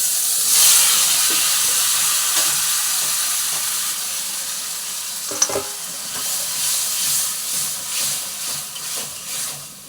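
Spices frying for a festive chutney, with crushed tomatoes added to the pan: a steady close sizzle and hiss with stirring scrapes and a sharp clack partway through, no talking.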